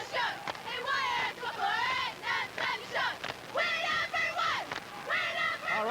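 At a 1989 state boys basketball game, a group of cheerleaders shouts a quick rhythmic cheer in bursts of loud, close voices over faint crowd noise.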